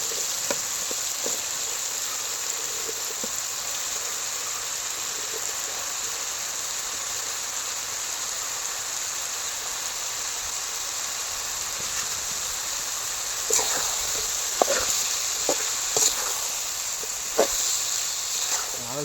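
Mushrooms sizzle in a pan for a village-style country mushroom curry, a steady hiss and crackle running throughout, with a few sharper pops and clatters near the end.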